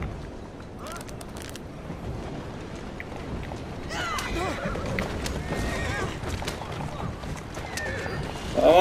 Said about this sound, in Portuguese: Cavalinho, dá ré aí.